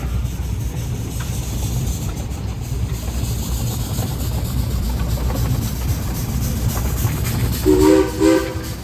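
A 1915 steam traction engine, 8 by 10 in size, rolls along at a parade of power over a steady rumbling background, then sounds two short, loud whistle blasts near the end.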